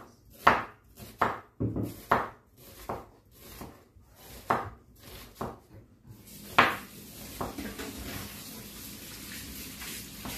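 A knife chops onion on a board in a home kitchen, a run of about a dozen sharp, close, evenly paced thuds that stops partway through, followed by a steady low background hiss.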